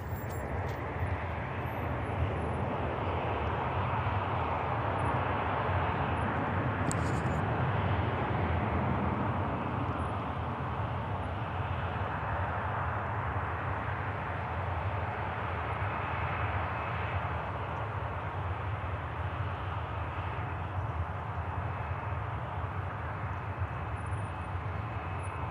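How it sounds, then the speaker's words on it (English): easyJet airliner climbing out after takeoff from Manchester Airport, a sustained, even jet roar with rumbling lows, moderately distant and continuous for the whole stretch with no talking. "EasyJet just increases the climb rate slightly"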